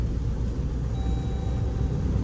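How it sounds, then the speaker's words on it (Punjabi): Low, steady engine rumble from a Jeep Meridian with automatic gearbox and 350 Nm of torque, held at a raised idle as it's revved, close and even with no talk. "ਹੁਣ ਆਪਾਂ ਰੇਸ ਦਿੰਦੇ ਹਾਂ ਅਤੇ ਗੇਅਰ"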